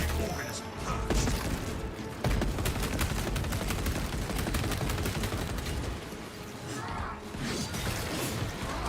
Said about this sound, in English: My servo harness gun will handle this.